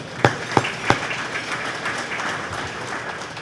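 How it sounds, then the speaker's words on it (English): At a city State of the City gathering, a few sharp claps ring out near the start, then blend into a broad wash of audience applause that carries on steadily. "So let's give them a round of applause."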